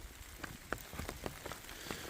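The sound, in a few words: rain falling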